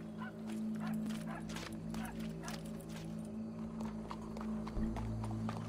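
Horse hooves clip-clopping in Red Dead Redemption 2, a steady rhythmic clatter under a constant low hum and background game ambience, with a possible dog bark mixed in.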